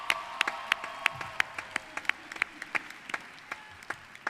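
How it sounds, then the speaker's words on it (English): Sparse, distinct handclaps from a small number of people at a Hollywood Hills High School graduation, applauding teachers and staff in a quiet, irregular rhythm. "please join me in giving a round of applause to the teachers and staff"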